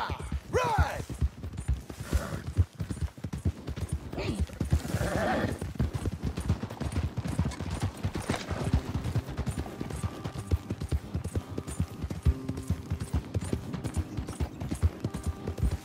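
Horses gallop in Red Dead Redemption 2, with rapid, even hoofbeats drumming for the whole stretch and a whinny near the start, as the riders move together.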